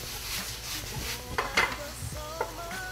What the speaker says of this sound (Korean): 굴소스 조금만 더 한 모금 넣고 이제 달달 볶아주시면 되는데